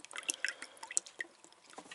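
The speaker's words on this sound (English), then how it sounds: "You should be able to see it by the water dripping on" Water drips into a boat battery cell during topping up: a quick run of small, close, irregular plinks and drops over a quiet background.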